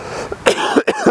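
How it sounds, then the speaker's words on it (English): A man coughs several times in quick, rough bursts, close and fairly loud, with a bit of throat clearing between them. "it's the Corona cough"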